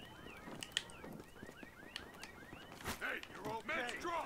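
A car alarm wails in a video game with rising, chirping electronic sweeps. Softer game noises and footsteps sit beneath it, and voices break in briefly.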